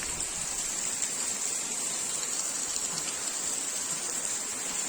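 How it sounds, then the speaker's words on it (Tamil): Heavy rain pours down on a village, a dense, even hiss of water on surfaces that holds steady from start to finish with no voices. "கொஞ்ச நேரம் தான் இன்னும் மழை வந்து பெஞ்சுதான் இருக்குது"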